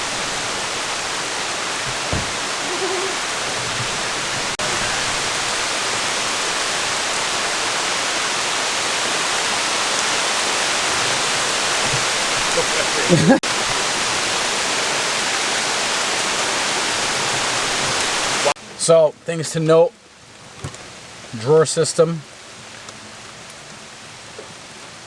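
Heavy rain pours down steadily on a campsite of overland 4Runners with their hatches open, a loud, continuous hiss that runs for most of the stretch before breaking off into a few short spoken remarks.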